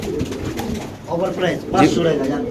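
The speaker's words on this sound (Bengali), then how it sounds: "এখানে আছে একটা ডেনিশ নরকবুতর" A Danish pigeon coos in low, throaty bursts close by at a pigeon sale, while people talk over it and background chatter continues.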